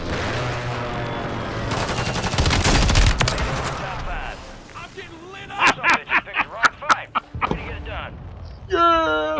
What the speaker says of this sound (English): Oh, we're getting fucking mortared.